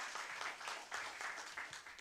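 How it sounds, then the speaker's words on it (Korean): An audience at a health and medical workers' union's 22nd anniversary ceremony gives sustained applause, a continuous patter of many hands heard from a distance and fairly quiet, with no talk over it. "다시 한번 큰 박수"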